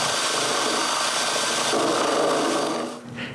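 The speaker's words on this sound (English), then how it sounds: "I mix this for 2 minutes with my drill and a wooden paddle I made." Drill spinning a homemade wooden paddle to mix a two-component resin in a jar, a steady close whirring grind with a scraping, rubbing texture that eases off at the end.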